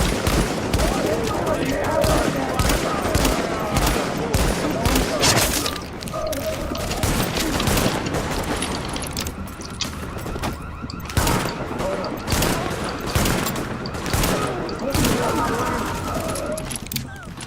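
Gunfire in a Counter-Strike match, with repeated sharp bursts and automatic volleys crackling throughout, some near and loud, others more distant, while a commentator's voice runs over the action.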